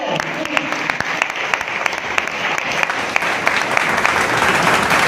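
An audience at a network marketing celebration event gives sustained loud applause for the team, a thick continuous roar of clapping with sharp individual claps standing out. It builds slightly toward the end, and no one speaks over it.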